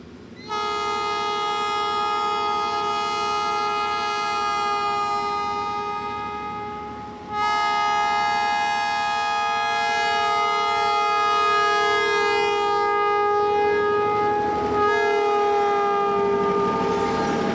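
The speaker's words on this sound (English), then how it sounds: "The GP15's have their work cut out for them as they arrive into the village of Athens." Loud, sustained multi-tone horn blasts from GP15 diesel locomotives at full throttle arriving in a village, held for long stretches with a brief break, over a rumbling engine drone.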